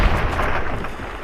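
Gunfire in Fallout: New Vegas, a deep muffled boom rolling out into a dull rumble, loud and close, with no voices over it.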